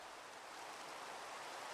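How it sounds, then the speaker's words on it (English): Rain falling in the video game Minecraft, a steady soft hiss of rainfall with no distinct drops, constant and even throughout the short stretch. "It's raining in Minecraft?"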